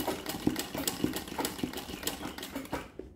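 Embroidery sewing machine stitching a simple rose, its needle tapping in a steady rapid rhythm at moderate, close volume for about three seconds before it stops, no voices.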